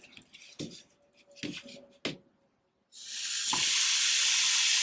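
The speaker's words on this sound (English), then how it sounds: "now I'm going to put the hamburger in the egg bite maker" Hamburger meat placed into a Dash egg bite maker breaks into a loud, steady sizzling hiss after a few soft handling clicks and thumps.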